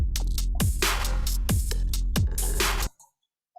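A music production's drum pattern plays alone, loud and punchy, with kick thumps on a steady beat under busy hi-hats and snares. It cuts off abruptly near the end into silence.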